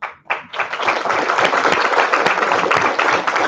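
A conference audience applauds its sponsors with sustained, dense clapping from many hands. The applause swells after a brief start and holds steady and fairly loud throughout.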